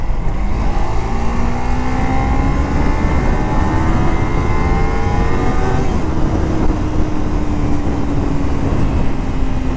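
Kawasaki Ninja 300 two-cylinder motorcycle pulling toward the top of its rev range, a loud steady engine whine climbing in pitch over road and wind roar, then easing slightly near the end.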